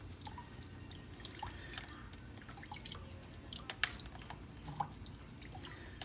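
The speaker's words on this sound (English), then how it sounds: "Small trickle of water." A small trickle of water from a tap runs while a boiled egg is peeled, a faint steady trickle with scattered drips and light taps close by, no talk.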